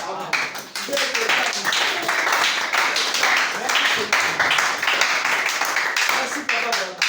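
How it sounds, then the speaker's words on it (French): A church congregation claps along steadily in quick rhythmic bursts, while a preacher's voice speaks loudly over the applause throughout. "Acclamez très fort."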